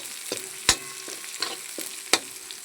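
Vegetables, cucumber among them, being sautéed and stirred in a pan for colourful upma, a soft sizzle broken by several sharp spatula scrapes and clicks against the pan.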